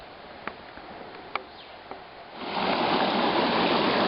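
A gorgeous creek on a backpacking trip flows steadily, its broadband rush rising suddenly to fill the second half after a few faint ticks, heard alone with no talking.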